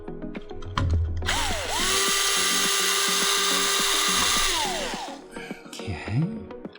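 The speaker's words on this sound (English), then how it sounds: "So I need to take these screws out." Power screwdriver removing screws from CPU cooler mounting brackets during a Ryzen upgrade, one sustained whirring run of several seconds rising and falling in pitch, with small clicks of handling before and after.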